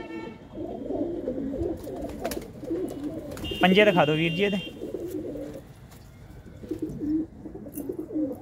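Pigeons kept in a net enclosure during cold weather coo in low, overlapping calls throughout, with someone speaking over them and a brief louder call partway through.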